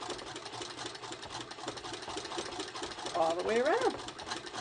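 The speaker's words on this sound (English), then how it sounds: "It's hand crank. It's from 1918." A 1918 hand crank sewing machine stitches close to the edge of a Victorian handbag, a steady, moderate mechanical whir running throughout beneath a voice.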